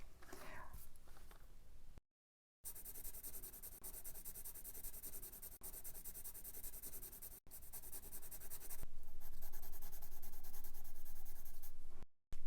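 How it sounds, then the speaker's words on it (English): Close, steady scratching of a hard 2H graphite pencil on paper, continuous strokes with brief pauses, growing denser and louder toward the end. "this is 2H, and it's a very hard pencil"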